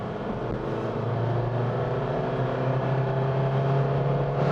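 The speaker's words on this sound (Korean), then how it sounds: "근데 문제는 뭐냐면 엔진에 소음이 너무 많이 들어요." An Audi Q2 35 TDI diesel engine hums steadily and smoothly at elevated revs, a constant low drone with no speech.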